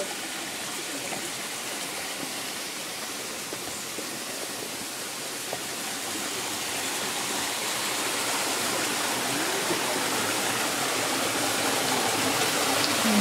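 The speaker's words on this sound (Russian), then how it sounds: "И вот уже вода, речушка." A small mountain stream near Lake Panagia in Crimea rushes steadily over rocks, a broad continuous hiss of water that grows slightly louder as it is approached.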